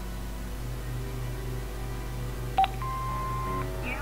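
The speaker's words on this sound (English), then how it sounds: "Hobbes's answer phone, and he's got messages." An answering machine in the Broken Sword 5 video game gives a short electronic beep followed by a longer steady tone, clear over a low constant hum.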